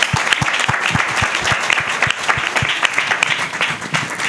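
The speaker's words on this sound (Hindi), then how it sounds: "हाँ जी ताली बजाइए।" A church congregation at a Wednesday night prayer meeting in Mazari claps hands in a steady rhythmic beat, many palms together over a roomy background wash.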